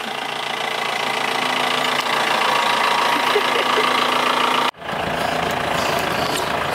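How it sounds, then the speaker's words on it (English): A Jeep engine idles close by, a steady loud mechanical rumble with a slight knocking chatter that holds evenly, then briefly drops out before resuming. "That's our ride. That's the Goa Jeep."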